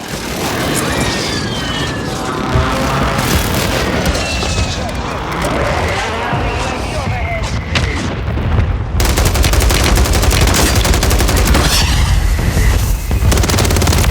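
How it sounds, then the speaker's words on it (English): Mortar strike explosions and sustained gunfire from a Warzone 3 match, a dense, loud barrage of shots and blasts that grows heavier partway through, with radio voice chatter mixed in. "Hostile mortar strike near your position."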